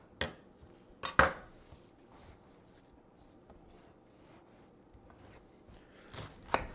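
A knife cutting through a cabbage half on a board, a few sharp crisp chops in two brief bursts separated by quiet, close and without talk.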